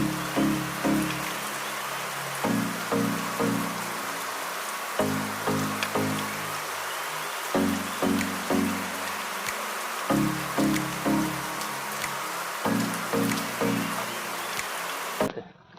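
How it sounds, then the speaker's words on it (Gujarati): Rain falls steadily in Jesar, giving a continuous broadband hiss with a faint, regular droning pulse repeating beneath it, heard close with no talk. "તો મિત્રો જેસરમાં તો બહુ સારો વરસાદ છે."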